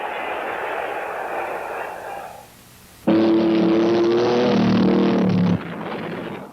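Race car engine revving hard in a 1971 Sears tire commercial about the Baja 1000 off-road race, a roaring rise that cuts to a louder sustained high rev, then drops away.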